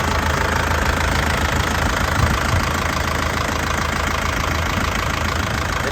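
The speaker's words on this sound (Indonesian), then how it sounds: "Jadi suaranya masih renyah, enak ya." A 2003 Touring turbo with a manual gearbox idles in a steady, even mechanical rumble with a faint knocking tick, close and constant throughout, with no voices.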